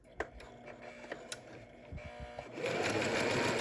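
Sewing machine stitching a face mask with a quarter-inch seam allowance, starting with a few separate clicks and taps, then settling into a steady close whir of running stitches.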